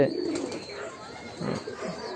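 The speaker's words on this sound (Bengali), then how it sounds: "কবুতরগুলো গিরিবাজ কবুতরই" A pair of Giribaj pigeons gives low, throaty coos close by, in two short bursts separated by a quieter pause.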